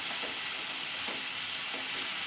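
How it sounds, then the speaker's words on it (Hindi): Continuous close sizzling of a chana dal biryani pan with half a cup of mint leaves and some green coriander going in, frying noise steady throughout with faint stirring bursts and no talk. "अब इसमें मैं पुदीना डाल रही हूँ। ½ कप पुदीना है।"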